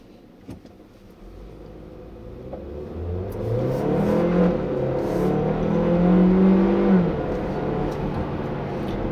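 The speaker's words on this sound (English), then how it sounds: "this turbo engine when I first put my foot down" A 2016 Hyundai Tucson 1.6-litre turbo engine builds from idle into a steady, rising acceleration, its low drone climbing in pitch and loudness over several seconds with no talking.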